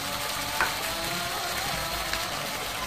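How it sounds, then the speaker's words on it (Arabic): Green peas frying in a pan, a continuous dense sizzle with a couple of small pops, steady and close with no voices. "اذا بعد تقلى معايا الجلبان"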